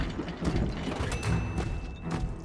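The ink machine in the Bendy and the Ink Machine video game clanks as it releases a wrench: a few rhythmic mechanical clunks over a whirring, ratcheting gear noise at moderate volume.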